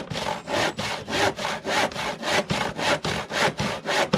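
Wood being cut with a hand saw, heard as steady rhythmic back-and-forth strokes about twice a second, close and loud, with no talking.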